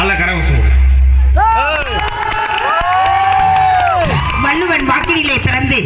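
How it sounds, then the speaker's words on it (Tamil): At a Tamil pattimandram debate in Manjinayakkanahalli panchayat, a large crowd breaks into loud cheering with rising whoops and shouting voices close by, while scattered clapping sits underneath. "நல்ல கரகோஷம்"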